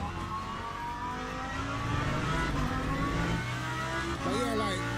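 A race car engine in Le Mans Ultimate revs and weaves while warming its tyres, the pitch rising and falling under a steady drone, with a voice speaking over it.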